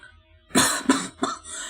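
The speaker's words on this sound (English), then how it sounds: "I started to cough again" Three short coughs in quick succession, close and fairly loud, with quiet between them and no speech.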